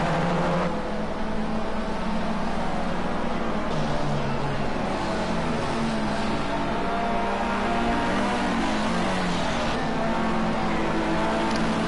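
Race cars in a PS4 racing game, including a Murcielago, roaring continuously with layered engine drones that shift and rev as the cars drive, steady and loud throughout.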